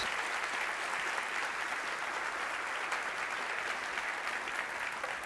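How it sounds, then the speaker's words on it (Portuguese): A church congregation applauds during a sermon, a steady, faint wash of clapping that holds evenly from start to finish. "Quer aplaudir? Ok, faça isso."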